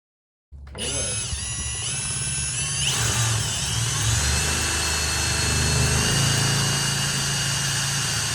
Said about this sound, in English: I'm gonna take this plastic off, drill the hole with this size.